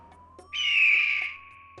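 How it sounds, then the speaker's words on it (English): A bald eagle screech from the game Under A Killing Moon: one drawn-out, bright, piercing cry lasting about a second, close and clear, over a faint steady background tone with a few soft clicks. "that bird screech seemed a little weird"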